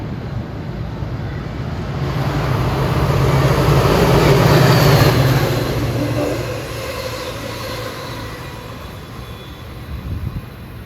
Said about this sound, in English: Now as that transit train heads for Morrisville Yard, we got a New York bound train coming out of Morrisville.